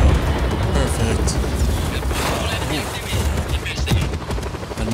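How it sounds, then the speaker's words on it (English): Rebels firing on a helicopter in the Just Cause 4 video game: loud rapid gunfire bursts and booms over a thumping rotor drone, dense and chaotic, with someone talking over the action. "we're back here with, rebels fighting a helicopter"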